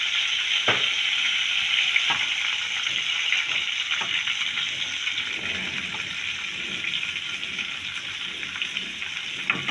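About a cup of oil heats in a pan for the tadka to temper dal, giving a continuous bright sizzling hiss broken by occasional sharp crackles.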